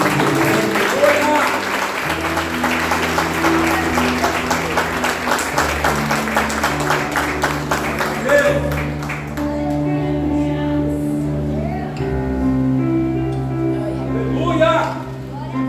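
A church congregation applauds steadily during a worship service while music with sustained chords plays, the clapping thinning out partway through as the music carries on.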